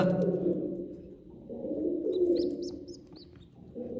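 Pigeons coo softly in low, rolling, repeated phrases near their nest of chicks, close and continuous, with a few faint higher chirps partway through.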